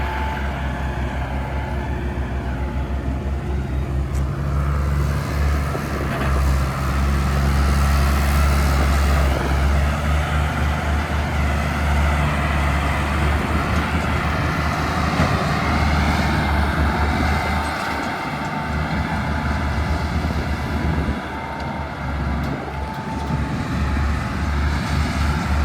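A Fiat 480 tractor, hauling a trolley, drives over a rough, dangerous road, its engine a continuous heavy rumble with shifting load and rattling, steady and close throughout, no talk.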